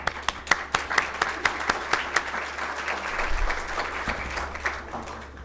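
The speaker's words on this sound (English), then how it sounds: "Round of applause." An audience at a customer service talk gives a round of applause, with a burst of sharp individual claps that blend into steady, fairly close clapping from the crowd.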